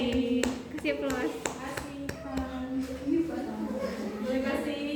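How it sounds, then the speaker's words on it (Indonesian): Classroom applause for a student, a short burst of scattered hand claps with taps, mixed with a teacher talking and children's voices over it. "Boleh kasih tepuk tangan dong."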